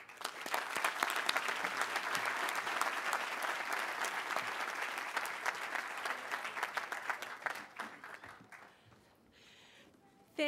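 Sustained audience applause at a graduation ceremony as a keynote speaker is welcomed, dense and steady clapping from a large crowd that thins out and fades near the end.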